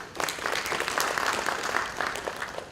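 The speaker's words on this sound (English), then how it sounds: "Let's clap for them." At an academic workshop's inaugural function and award ceremony, an audience breaks into brief, dense clapping, a fairly even burst of many hands at moderate volume for under three seconds, with no speech.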